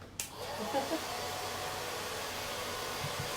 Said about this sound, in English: I'm going to use hairdryer on my letter because it's simpler.